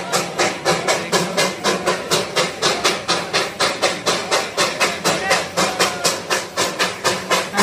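A Darjeeling train at the station, a loud rapid rhythmic chuffing of steam exhaust beating evenly throughout, close and unbroken.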